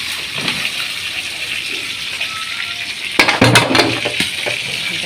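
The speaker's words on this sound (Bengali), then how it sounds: "এখন মুরগির জন্য পেঁয়াজ দিয়ে দিলাম, পেঁয়াজটা ভাজা ভাজা করে এখন দিয়ে দিলাম" Onions frying in oil for chicken curry give a steady, moderate sizzle throughout, broken near the end by a few sharp clinks of a utensil against the pan.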